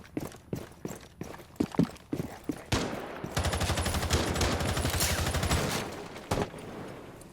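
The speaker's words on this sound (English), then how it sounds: "A lot of shots being fired." Gunfire during a competitive video game match: a string of scattered single shots early on, then sustained rapid automatic fire for several seconds, followed by a final shot, loud and close.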